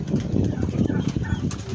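Chickens clucking close by at a chicken farm in Jahra, Kuwait, a dense burst of overlapping short clucks and rustling over a brief span.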